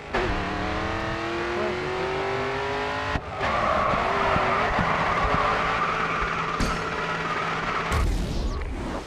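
Car drifting in the racing game Grid II, engine revving hard with tire squeal and skidding as the car slides, then sharp impacts and a sudden burst near the end.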